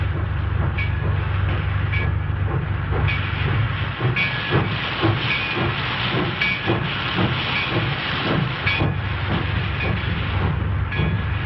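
A train rumbles and hisses steadily in a rail yard, with a continuous low roar, rhythmic clanks and occasional metallic squeals throughout.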